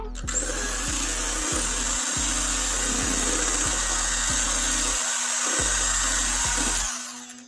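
A kitchen mixer grinder whirs as it blends custard ice cream, giving a steady, loud motor drone for about seven seconds before winding down and stopping.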